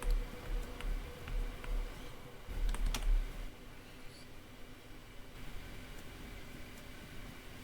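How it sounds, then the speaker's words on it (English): Quiet, close clicking of a computer keyboard as someone types chat messages while playing DayZ, uneven bursts of key taps over soft background hiss with no talking. "I was just typing in chat"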